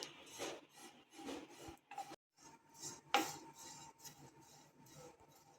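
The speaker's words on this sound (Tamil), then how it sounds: "இதையும் ஒரு ரெண்டு நிமிஷத்துக்கு நல்லா இதை வறுத்து எடுத்துக்கலாம்" Fresh grated coconut dry-roasting in a pan, with soft scraping and rasping of a spatula against the metal in irregular strokes and a brief clink, faint and close with no talking.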